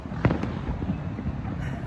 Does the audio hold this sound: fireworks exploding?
yes